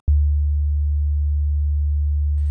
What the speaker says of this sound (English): this sine wave is creating one pure fundamental frequency at the note that I'm playing